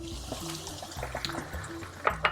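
A quarter cup of water goes into a pan of spiced minced lamb and peas for keema, giving a soft, faint pour and gentle sizzle with a few light clinks of the pan. No one speaks.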